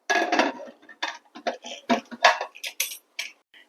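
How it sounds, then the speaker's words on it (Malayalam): A pressure cooker lid being fitted and closed, a quick series of sharp metallic clinks and clacks, close and fairly loud, with no talk. "ഇനി കുക്കർ മൂടി വയ്ക്കാം"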